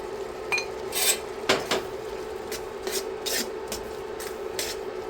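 A utensil stirs cornstarch slurry into a thickening beef sauce in a pan, making a handful of scraping, clinking strokes over a low steady hum, close by with no talking.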